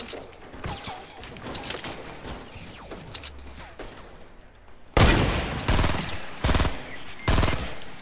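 Video game gunfire: scattered distant shots and bursts early, then loud close rapid bursts of automatic fire in several sharp volleys near the end.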